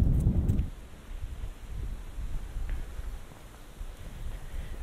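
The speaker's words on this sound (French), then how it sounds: "Malheureusement, le vent cache un peu le truc" Wind buffets a headset's binaural microphones outdoors, a steady low rumble with a strong gust at the start that eases into a softer, fluctuating roar with no voices.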